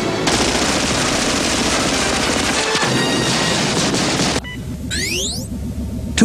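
Sustained rapid gunfire in an animated Batman film, loud and dense, with bursts of automatic shots and booms continuing for several seconds before dropping to a quieter, sweeping tail.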